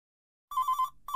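A telephone in a horse-ranch video game rings with a bright electronic trill: silence, then one clipped burst of rapid ringing lasting about half a second and the start of a second burst, loud and alone.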